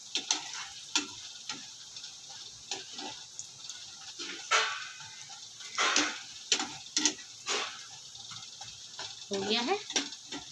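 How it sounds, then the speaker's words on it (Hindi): Fenugreek frying in a pan for tomato soup, with soft sizzling and intermittent stirring and scraping taps, fairly quiet and close, while a voice speaks. "मेथी सारा डाल दिया है, अच्छे से फ्राई कर लेते हैं।"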